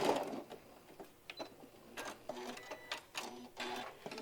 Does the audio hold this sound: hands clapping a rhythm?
no